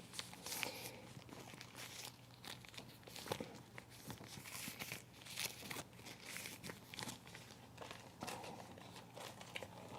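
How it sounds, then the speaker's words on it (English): A plastic bag is crinkled and crumpled close up in a quiet room, with dense, continuous crackling and rustling that rises and falls throughout, and no voice. "Plastic bag."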